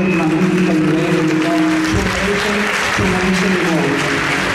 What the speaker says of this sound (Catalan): demanar un fort aplaudiment per tots aquests patinadors i patinadores